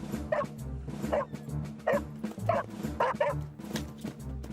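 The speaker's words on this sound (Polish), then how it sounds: "Dobry piesek." A dog barks repeatedly in quick, regular yips, close and fairly loud, over a low rumbling background.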